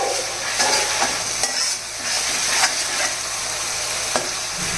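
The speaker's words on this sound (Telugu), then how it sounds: "ఈ అల్లం పేస్ట్ వేసాం కదా ఇది కొంచెం పచ్చివాసన పోయేంత వరకు ఇలా కలుపుతూ వేగించాలి" Ginger paste frying in oil for a chicken curry, a dense steady sizzle punctuated by regular scraping strokes of a spoon stirring the pan, no voices.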